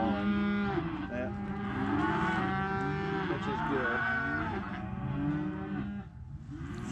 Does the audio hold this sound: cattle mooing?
yes